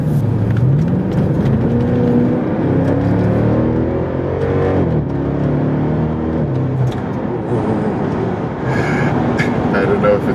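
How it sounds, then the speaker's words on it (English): A 2014 BMW 650 fitted with a VRSF sports exhaust accelerates on an open road, its loud, steady engine drone rising in pitch with small exhaust kickbacks, while someone talks over it throughout. "you get these like little exhaust kickbacks as well"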